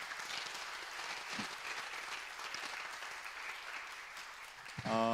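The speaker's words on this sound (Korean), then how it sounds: "우리 자녀들을 축복하는 마음으로 한번 박수하실까요?" A church congregation applauds during a Sunday service, a steady wash of many hands clapping from across the room before a sharp closer sound cuts in at the end.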